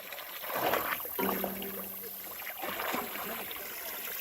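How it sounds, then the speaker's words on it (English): Water from a solar-powered watering pipe trickles and splashes faintly outdoors, a soft uneven flow with a brief low hum in the middle. "Here comes the water."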